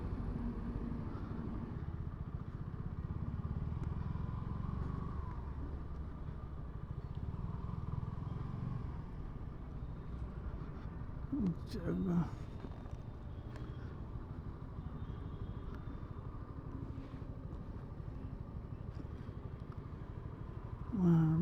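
A motorcycle loaded with luggage rumbles at low speed and idles while hunting for a parking spot, its steady engine drone continuing under faint street clatter, with brief bursts of nearby sound toward the end.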